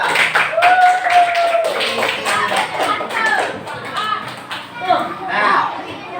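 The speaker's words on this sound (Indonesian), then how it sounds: "Tepuk tangan untuk kita semua." A room of people claps together steadily for several seconds, a lively burst of applause with some voices mixed in.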